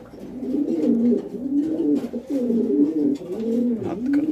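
Caged pigeons coo nearby in a continuous series of low, rolling, throaty calls that repeat in a steady rhythm.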